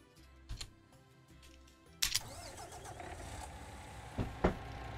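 Vehicle engine in the Farming Simulator 19 game: a quiet hum at first, then a sharp start at about two seconds into a steady, moderately loud drone with a couple of brief peaks.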